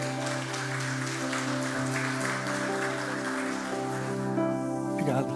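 A church congregation applauds in a wash of scattered clapping beneath sustained organ or keyboard chords that continue throughout, with a brief vocal sound near the end.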